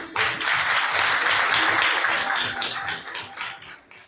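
A burst of audience applause at a corporate business meeting of the Eskişehir Chamber of Commerce, dense clapping that swells quickly, holds, then thins out toward the end.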